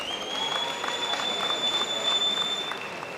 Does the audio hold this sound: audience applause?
yes